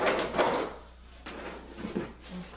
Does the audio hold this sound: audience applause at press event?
no